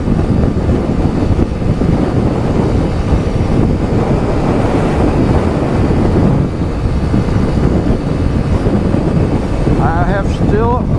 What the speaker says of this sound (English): We have full throttle here on the hill, on the incline.